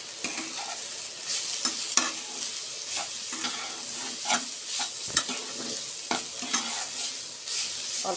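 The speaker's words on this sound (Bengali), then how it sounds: "অল্প তেলে একটু ভাজা ভাজা করবো" Carrots frying in a little oil in a pan, a steady close sizzle with repeated scraping and stirring clicks, no talking.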